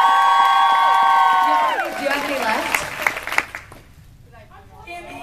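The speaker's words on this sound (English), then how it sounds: "can I get a big round of applause for the person who made the carrot onesie one?" An audience applauds and cheers, with loud sustained clapping and whoops that fade into scattered claps and chatter, with a voice speaking in the crowd.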